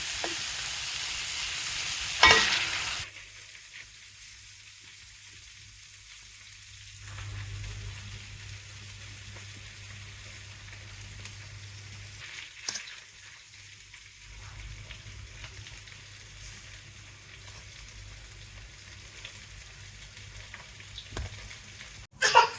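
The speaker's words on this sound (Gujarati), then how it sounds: "તેલમાં જ આપણે શાક તળવું" Vegetables fry in oil with a soft, steady sizzle that runs throughout, broken by a couple of light clatters.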